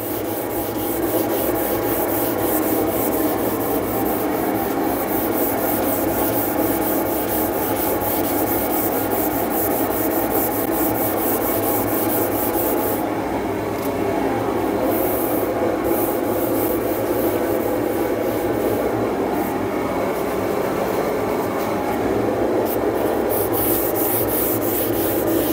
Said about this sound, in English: Going to try to be a bit more disciplined in my sanding, keep it all in one direction.